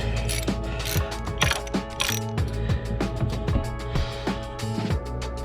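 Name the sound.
ratchet tightening T30 torx screws on Can-Am Outlander filter cover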